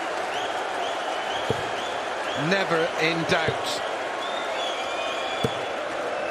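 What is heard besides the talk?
crowd applauding at darts championship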